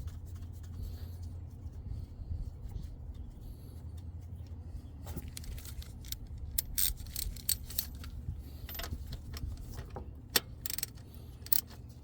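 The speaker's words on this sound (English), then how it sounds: "Go ahead and screw in the new valve and then tighten it." A new PCV valve is screwed into a Honda Accord 2.4L engine and tightened, giving sparse close metallic clicks and ratchet ticks that grow denser in the second half over a steady low garage hum.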